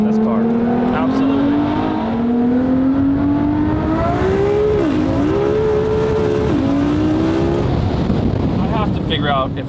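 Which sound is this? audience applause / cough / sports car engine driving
sports car engine driving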